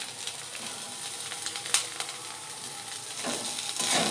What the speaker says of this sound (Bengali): ভালো করে ভেজে ভেজে এক এক করে সবজি কষিয়ে নেব।